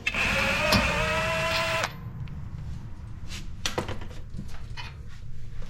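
A powered tool whirs loudly and steadily for under two seconds as it spins a nut off a 2008 Pontiac G8's suspension. Faint clinks and handling noises follow in a quieter garage.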